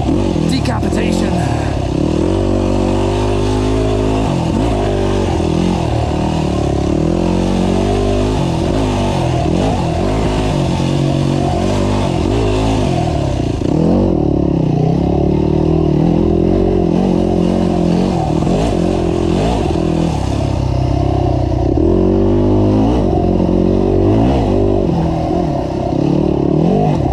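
A GAS GAS EC250F enduro motorcycle revs and rides along trails, its engine loud and close, rising and falling in pitch throughout with rough, continuous drone and clattering.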